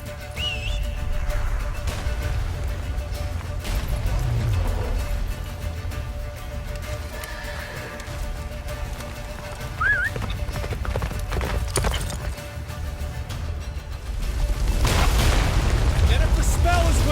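Roach the horse gallops in The Witcher 3, hooves clip-clopping in a steady rhythm, close and loud, beneath game music and spoken dialogue, with a neigh and booming effects in the mix.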